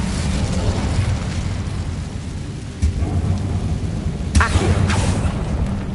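Fire spell Incendio cast in the video game Hogwarts Legacy, a loud whooshing, roaring burst under a dense rumbling game soundscape, with sharper flaring swells near the end.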